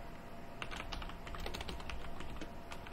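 Steady clatter of typing on a computer keyboard during an SQL lesson, with quick, irregular keystrokes close by and no talking.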